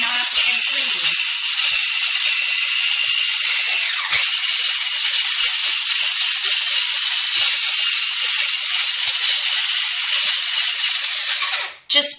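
Electric hand mixer beating butter until creamy for red velvet cookies, a continuous high whirring buzz that holds steady before cutting off abruptly near the end.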